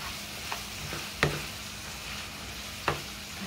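Ground meat and packets of taco seasoning being stirred in a pan for taco pie, a quiet steady sizzle broken by a few sharp scrapes and clinks of the spoon against the pan.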